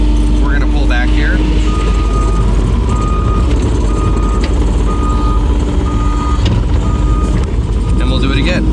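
A skid steer loader with a bucket backs up, its reversing alarm beeping repeatedly over a loud, steady diesel engine drone, with a person talking over the machine noise.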